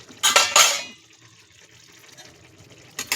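Metal lid lifted off a cooking pot with a short clatter of two or three quick clanks, followed by quiet kitchen background and a faint knock at the end.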